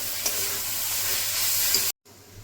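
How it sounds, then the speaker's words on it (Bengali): Veg chowmein noodles are stir-fried in a pan. A bright, steady sizzle and hiss comes with a few tossing clatters, then cuts off abruptly and resumes fainter, with no talk. "কিছুক্ষণ ভেজে নেব।"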